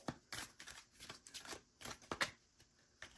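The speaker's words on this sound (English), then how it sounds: "I'm having a hard time shuffling this too." Cards are riffled and shuffled in a quick series of crisp, papery bursts, close up and fairly quiet, with no talking.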